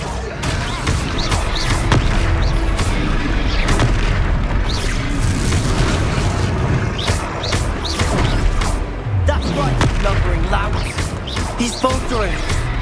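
Repeated Confringo blasting-spell explosions from the Hogwarts Legacy video game, a dense barrage of booming, crackling hits over a continuous loud battle soundscape.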